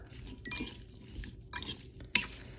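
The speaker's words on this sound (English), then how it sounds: "And you're just gonna give this a good stir." A spoon stirs sugar and salt into vinegar pickle brine in a bowl, giving soft swishing strokes broken by a few sharp clinks against the side, close and quiet with no talk.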